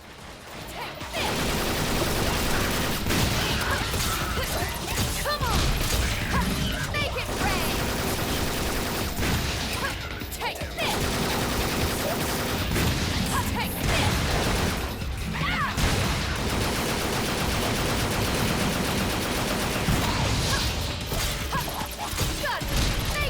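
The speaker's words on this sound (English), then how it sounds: "Notice her double jump is literally her shooting down with her rocket launcher." A rocket launcher fires repeatedly in the Devil May Cry 4 video game: loud, dense bursts of blasts and crashes run almost without a break, layered with other game effects.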